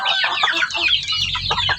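A hen clucking close by, rapid irregular clucks and short squawks in quick succession, with low background rumble rising toward the end.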